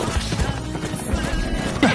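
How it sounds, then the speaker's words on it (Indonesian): Horse hooves clip-clop steadily as a rider travels toward a city in a Chinese donghua fantasy scene, layered under music and ambient sound with a brief louder hit near the end. "Akhirnya, Lindung pun on the way, menaiki sebuah kuda menuju ke kota Yan."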